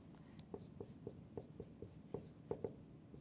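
Notation for a regression lesson written by hand, a quick series of short, crisp pen taps and strokes in an irregular rhythm, close and quiet with no voice.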